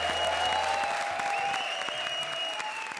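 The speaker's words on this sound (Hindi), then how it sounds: "तालियां" A studio audience at a comedy show applauds loudly, a dense wash of clapping that holds steady throughout and thins slightly toward the end.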